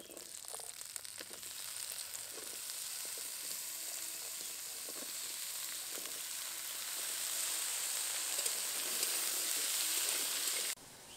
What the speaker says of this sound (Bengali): সবজিগুলোকে কিছুক্ষণ ভালো করে নেড়েচেড়ে নিয়েছি